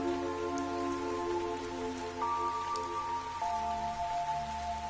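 Steady rain from the video game Fantasian Neo Dimension hisses evenly throughout, layered beneath sustained musical tones.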